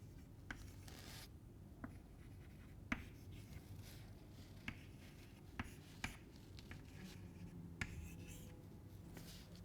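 Chalk or marker writing numbers on a lecture-hall board: faint, scratchy strokes with scattered light taps as each figure is formed, over a low, steady room hum, with no talking.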